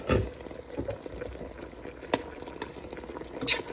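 Ginataang tilapia simmering at a rolling boil in a pot with fresh tilapia, a steady low bubbling and patter close by with a few sharper pops, no talking.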